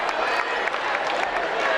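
A basketball crowd cheers and applauds after a game winner, a dense, steady roar of clapping and shouting that fills the whole short moment without a break.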